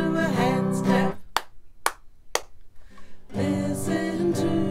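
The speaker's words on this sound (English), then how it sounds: "Listen to a hands clap." Three sharp, evenly spaced hand claps ring out in a gap between stretches of sung music in a children's song.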